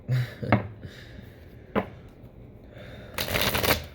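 A small mini tarot card deck being shuffled, giving a few crisp riffling flutters and taps up close, quiet overall with a louder burst of rapid card ruffling near the end.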